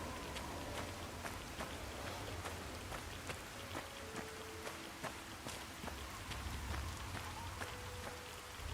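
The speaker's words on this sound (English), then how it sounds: "that rain effect is so nice" A video game rain effect plays as a steady patter of rain on surfaces, with scattered sharper drops, continuous and fairly quiet, without talk.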